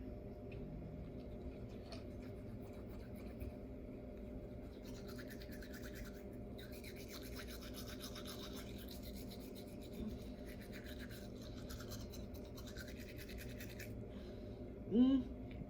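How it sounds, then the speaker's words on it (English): Soft, steady scrubbing of a toothbrush on teeth, using cloves, quiet and close, continuing with little change before a brief louder knock near the end. "So now take your toothbrush."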